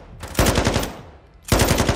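Automatic gunfire blasts through a wall during a competitive Call of Duty match, two rapid bursts of closely spaced shots, loud and near, separated by a brief lull.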